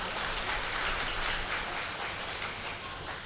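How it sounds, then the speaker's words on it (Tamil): Audience applause at a Tamil lecture hall event honoring a speaker: a steady, dense wash of clapping from a crowd, even in level throughout and heard alone without talk. "ஒரு நல்ல கைத்தட்டில் கொடுக்கலாங்க"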